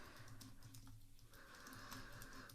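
Light, quick keystrokes patter on a computer keyboard while a note is written in a notes app, a soft close run of clicks with a brief pause midway, no voices.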